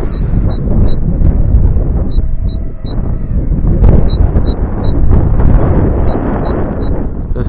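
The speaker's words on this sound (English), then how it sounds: "It's rather windy today." Strong gusty wind buffeting an outdoor microphone on a windy day during a Holy Stone HS150 Bolt Bee quadcopter flight, a steady low rumble with a faint repeating high beep from the drone.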